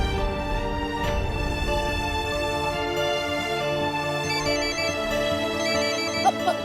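A mobile phone ringtone plays continuously as a steady melodic ring over a dramatic music bed inside a home, fairly loud and sustained throughout.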